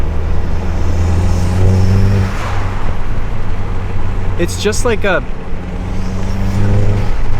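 A Volkswagen Golf GTI Mk8 engine with an open aftermarket intake idles with a deep, steady rumble, then briefly revs higher before settling back, while someone talks over it.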